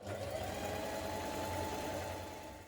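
Sewing machine running a steady, continuous stay stitch around a hooded jacket's neck edge, a close, even motor hum and needle drone that fades slightly at the end; no voices.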